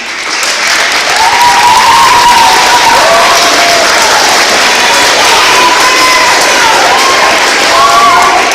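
A school audience applauds at a middle school band event: loud, dense, sustained clapping with scattered whistles and cheers running through it.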